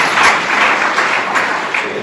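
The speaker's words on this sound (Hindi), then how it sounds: "ताली बजाइए जोर से।" Congregation at a church service clapping loudly together, a dense steady wash of applause filling the whole stretch without pause.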